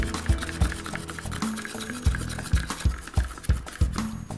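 Acrylic paint blended with drops of silicone oil, stirred in a cup with soft, repeated scraping and clinking strokes at a steady rhythm, close and fairly quiet, with no talking.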